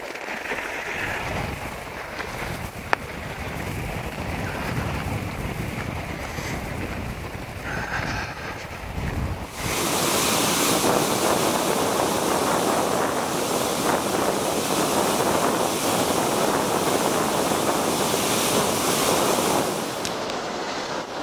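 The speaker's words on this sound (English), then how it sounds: "No matter what time of year it is, the water is always flowing out of Lake Ray Roberts." Water of the Elm Fork of the Trinity River flowing out of Lake Ray Roberts in Texas, a broad continuous rushing roar that swells louder about halfway through, with wind buffeting the microphone.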